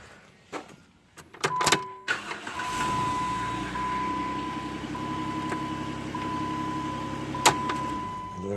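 A 2009 Jeep Wrangler cranks and starts after a no-crank fault caused by an aftermarket security chip, then settles into a steady close idle, with a thin electronic tone and a few sharp clicks.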